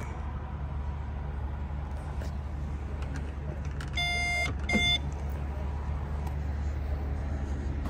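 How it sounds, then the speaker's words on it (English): A 2015 Tesla Model S P85D power liftgate operating under a steady low hum, with a pair of short electronic beeps about halfway through. "power lift gate"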